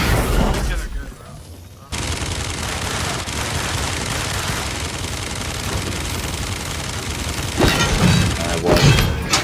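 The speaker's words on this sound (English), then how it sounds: "Oh, the minigun." A minigun in the video game Realm Royale fires as one loud, dense, continuous burst lasting several seconds, with softer game sounds before and after.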